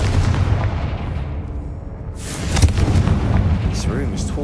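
A Confringo explosion spell cast in Hogwarts Legacy bursts with a loud boom, rumbling low under game music and a speaking voice.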